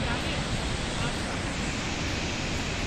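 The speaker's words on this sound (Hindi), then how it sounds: "तेज बारिश की वजह से पानी नीचे आता हुआ, बहता हुआ" Floodwater after heavy rain roars across a washed-out stretch of the Badrinath highway NH-7 in Chamoli, a constant loud broadband rush with no breaks.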